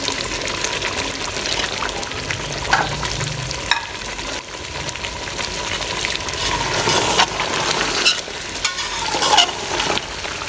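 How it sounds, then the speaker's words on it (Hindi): Chicken fries in oil in a handi with a continuous loud sizzle, broken by several sharp stirring and scraping knocks against the pot. "इतना भून लेते हैं कि हमारा जो ऑयल है ना वो ऊपर आ जाए। चिकन हमारा भुना जा रहा है।"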